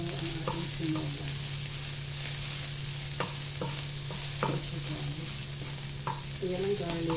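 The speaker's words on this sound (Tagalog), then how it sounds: "Kisahin ang ating tomato and garlic." Tomato and garlic sauté in a pan for chicken tinola, with a steady close sizzle and frequent stirring scrapes and clinks of a utensil against the pan.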